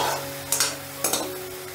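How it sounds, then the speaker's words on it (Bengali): Soybean balls fry in oil over medium heat, a brief close sizzle broken by a few quick stirring scrapes, with a faint steady hum underneath. "আমি ঘুরিয়ে ফিরিয়ে লাল লাল করে ভেজে নিয়েছি"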